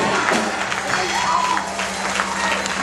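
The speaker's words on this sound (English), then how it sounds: "Clap your hands." A church congregation claps hands together in a dense, continuous wash of applause, loud and close, with voices faintly mixed in.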